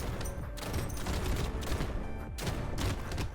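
Shotgun fire in the Brotato video game, a dense rapid barrage of overlapping blasts and booms, loud and continuous with short gaps, game action sounds throughout.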